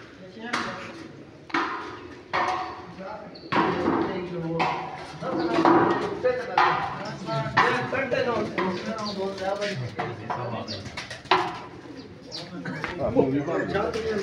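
Pigeons coo on a rooftop used for flying pigeons in Mandi Bahauddin, with repeated soft coos and fluttering bursts close by as people talk.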